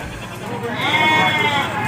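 A goat bleats at a livestock market in Lampung Tengah, one drawn-out wavering cry rising over constant crowd chatter and background noise.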